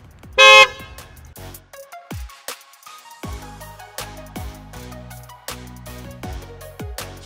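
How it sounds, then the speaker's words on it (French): Tesla Model 3 SR+ horn triggered remotely from a phone: one short, loud, bright honk near the start, followed by a string of sharp musical clicks and plucked tones. "Je vais pouvoir la faire klaxonner."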